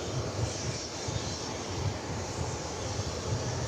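An American Airlines jet airliner passes at DFW Airport, heard as a steady, fairly loud low engine roar that holds evenly throughout with no other sounds.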